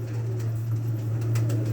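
A Teddy pigeon coos close by, a low, continuous, soft rolling coo that carries through the short moment with no voices.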